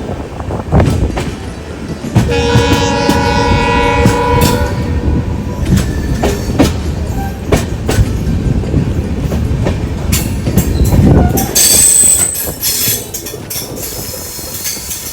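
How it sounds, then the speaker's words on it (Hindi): A passenger train passes a railway crossing loud and close, its horn sounding in a long steady blast early on, followed by rolling wheel clatter and rumble and a brief high wheel squeal near the end. "भाई जो क्रॉसिंग वाली ट्रेन थी ना, वो ये थी, अब ये निकली है।"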